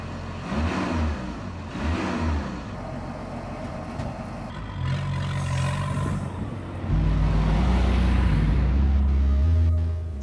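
SHATUN Prime articulated-frame ATV driving, its engine droning and rising in revs with deeper, louder low rumble in the second half, heard close and steady with no talking.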